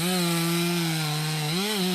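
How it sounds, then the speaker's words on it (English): A chainsaw cutting maple wood gives a continuous, loud, close engine drone that dips slightly in pitch and then rises again under load. "And saws are loud."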